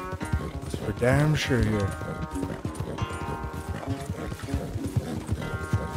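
Hoofbeats of a horse galloping in Red Dead Redemption 2 clop in a steady rhythm, with a brief whinny, under near constant talk from a player throughout.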